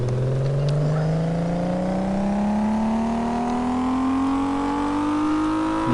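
Simulated Mayen M8 engine from Car Mechanic Simulator 2015 revving steadily upward on a test run, a loud continuous climbing drone of engine harmonics across the full six seconds with no talking.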